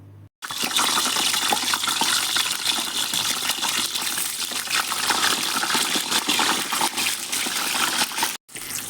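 Eggplant pieces deep frying in hot oil give a loud, steady, close sizzle and crackle that runs almost unbroken, with a short break at the start and another near the end.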